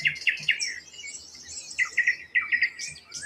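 Birds sing outdoors in quick bright chirps and whistled phrases, heard clearly and fairly close in a short run of repeated notes.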